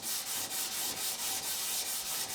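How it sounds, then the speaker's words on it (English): A guitar action gauge rubbed flat with sandpaper on a flat surface, close steady back-and-forth strokes at an even rhythm, roughly ten passes, with no one speaking. "I'm now finishing the flattening using a series of grades of sandpaper on a very carefully checked and"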